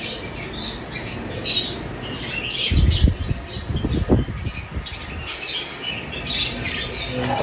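Pet birds in an aviary, including pale fallow opaline parrots, chirp and twitter in a busy, layered chorus, close by and continuous, with wing flutters and rustling in the middle.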